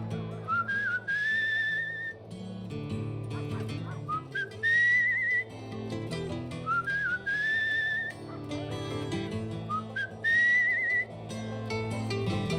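Tuneful whistled phrases from the player character in the video game Where The Water Tastes Like Wine, sounded in about four short bursts spread evenly over ambient game music.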